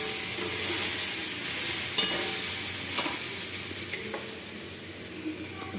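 Potatoes fry in a pan with a steady, close sizzle, broken by a few scraping stirs along the way; no one speaks.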